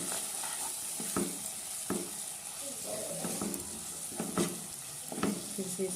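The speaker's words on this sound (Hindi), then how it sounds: "इसको अच्छे से चलाएंगे" Turmeric powder and salt being stirred into food sizzling in a frying pan, with steady frying hiss beneath repeated scraping strokes of a spoon against the pan, close up.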